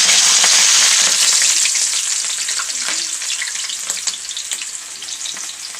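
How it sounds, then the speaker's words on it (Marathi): Onions fry for veg biryani in a large bowlful of hot oil, a loud, continuous close sizzle that eases slightly over several seconds, with faint stirring clicks and no talking. "मी याच्यामध्ये कांदे फ्राय करायला घातले"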